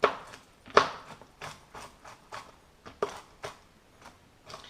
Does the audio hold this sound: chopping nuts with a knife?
yes